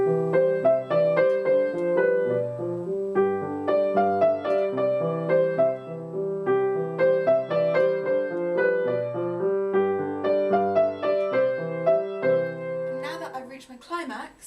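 Solo piano playing The Harebell, a beginner's piece, running from the middle section through the climax to the end; steady melodic phrases with sustained chords throughout, alone and without talk, ending with a brief noisy rustle.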